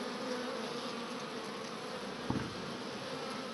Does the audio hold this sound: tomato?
no